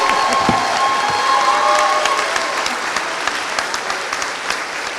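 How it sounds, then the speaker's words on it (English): An audience claps continuously for Bluegrass Challenge Academy Class 48, a dense steady patter of many hands that thins slightly toward the end, with a few faint voices underneath. "Please give them a round of applause."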